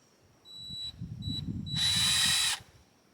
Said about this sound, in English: I'm just going to drill a hole through it